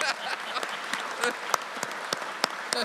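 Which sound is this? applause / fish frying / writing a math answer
applause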